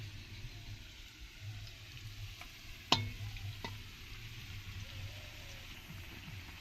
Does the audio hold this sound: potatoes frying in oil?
yes